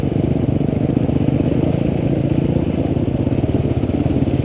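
Motorcycle ridden through the Paluxy River crossing, its steady engine drone mixed with continuous splashing and clattering water close by, loud and unbroken throughout.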